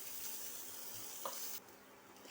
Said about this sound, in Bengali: দেখো এটা একটু হালকা করে ভাজছি আমি